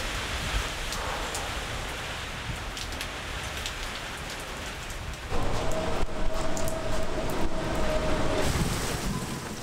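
Steady rain falls in a dense, even hiss on surfaces on Indonesia's Buton Island, heavier and closer in the latter half, with a faint tonal hum running briefly through it and no talking.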